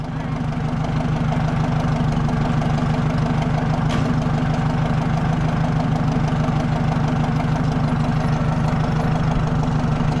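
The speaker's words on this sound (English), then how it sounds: "Walt, we're gonna back it up this way so you're gonna have to start cutting the wheel to the left" A Ford F100 truck engine idles steadily while being backed up, a loud, even low rumble with a rhythmic knock running throughout and no change in pace.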